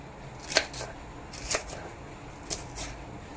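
Knife chopping two capsicums into large pieces on a board, a few sharp separate cuts spaced about a second apart, fairly faint and close, with no talk.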